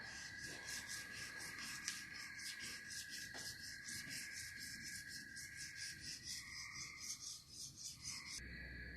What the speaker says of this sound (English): I'm going to hand sand the top and bottom of the handle.